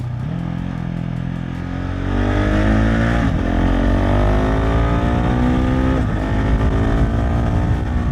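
A 2021 KTM 690 SMC R single-cylinder supermoto being ridden, its engine revving up and shifting through gears with rising and falling pitch, loud and close against steady wind, with no talk.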